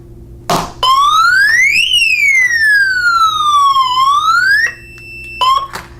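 A glass break sensor alarm wails loudly, sweeping up and down in pitch, triggered by a sharp slap on an office desk and ending with a few short beeps.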